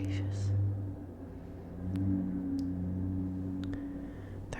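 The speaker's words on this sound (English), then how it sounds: "There are so many loud cars that go up and down my street." A loud car engine rumbles and revs steadily on a residential street, a low droning roar lasting throughout with a swell near the start and middle, close by and unaccompanied by talk.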